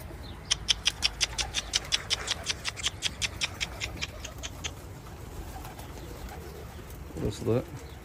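Hünkar pigeons in a coop give a fast run of about twenty sharp, evenly spaced calls that fade out, followed by a brief low burbling coo near the end.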